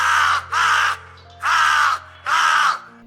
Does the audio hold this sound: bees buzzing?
no